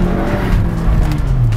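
A Cupra Ateca brakes hard, with a loud, close, steady roar of tire and road noise and a low engine rumble running through the whole short stretch.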